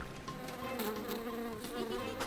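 A cartoon bee buzzes continuously, a wavering insect drone that swells slightly in places, heard alone without any talking.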